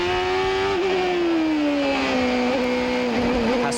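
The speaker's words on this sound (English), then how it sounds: "Listen to the throttle." A 1995 race car at the Monterey Grand Prix holds a loud, sustained engine note on throttle, pitch easing down through a long corner with brief lifts and small blips, close and continuous with no voices.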